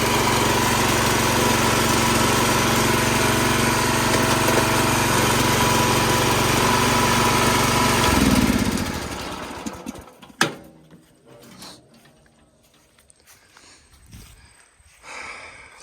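A busted riding lawn mower engine runs at a loud, steady drone for several seconds, then cuts off and winds down, leaving scattered clunks and quiet handling noises.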